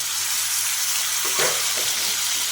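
Chopped onion and tomato fry together in a pan for a village-style curry, making a loud, continuous close sizzle with a brief stir partway through.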